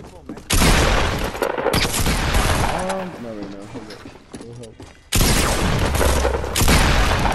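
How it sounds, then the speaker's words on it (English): Bursts of gunfire from a Fortnite match crackle loudly in a dense, continuous volley, pause for several seconds under players' voices, then resume at full intensity. "Sounds like they got a gun."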